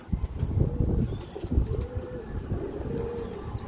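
Sialkoti rooftop pigeons coo in low, throaty repeated calls nearby, with occasional soft chirps and rustling around them.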